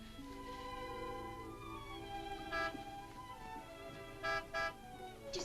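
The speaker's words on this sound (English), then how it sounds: "Martin would never honk a horn at a lady" Car horn honking outside in a 1948 film noir scene, a few short toots heard in the distance over a soft bed of orchestral music.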